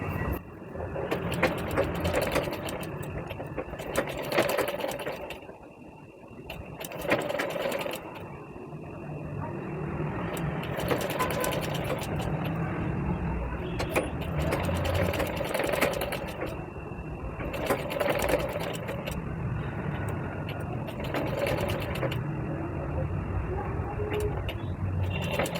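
A sewing machine stitches a one-tuck blouse in a beginner's tailoring class, running in rhythmic bursts of rapid whirring that stop and start again every few seconds, close and steady, with faint talk in the background at times.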